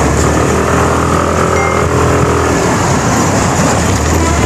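A Suzuki Avenis 125 scooter's 125cc engine drones steadily while riding, with loud, constant wind rush over the whine throughout, no talking.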